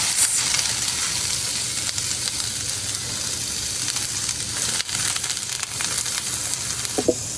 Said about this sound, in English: I have my skewers on like a medium-high heat, and I'm just gonna cook this until the veggies are tender and the tofu is browning